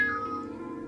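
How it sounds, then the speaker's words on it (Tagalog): A large cat gives one sustained meow, close and fairly loud, sliding slightly down in pitch over a dense low background hum. "Teka lang, ang laking pusa naman ito ah."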